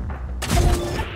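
A tank gun firing in World of Tanks, a sudden loud boom that breaks over quiet and rolls into a broad, rumbling blast with a sustained low thud and crackling tail.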